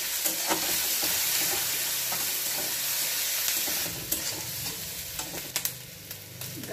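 Capsicum sizzling on a hot griddle for a toast sandwich, a loud steady fry hiss while a spatula stirs and scrapes, with sharper clicks and taps near the end as the frying quiets slightly.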